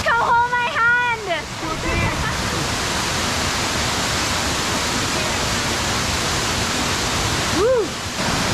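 Argyle Falls in Tobago pours as a steady, dense roar of falling water, close and continuous throughout, with excited voices and whoops over it in the first two seconds and a brief call near the end.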